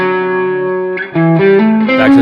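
An electric guitar run through distortion and effects holds a sustained, harmonically rich note. It then moves into a quick run of separate notes over the IV chord in a solo, loud and close, with no talking.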